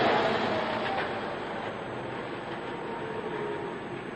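A Lille metro train runs steadily through a station on opening day in 1982, a loud continuous rumble and whine without speech.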